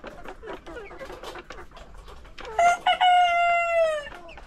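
Newly bought chickens cluck and call near a farm pen, then a rooster gives a loud, drawn-out crow that fills the second half.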